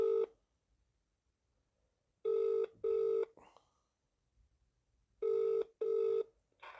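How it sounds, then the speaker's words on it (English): Phone call to a care home: a short tone at the start, then two paired bursts of ringback ring, each with a steady pitch, separated by quiet pauses, clear and fairly loud on the line. "Ringing up Sunningdale Care Home."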